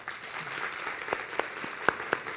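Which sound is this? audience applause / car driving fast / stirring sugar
audience applause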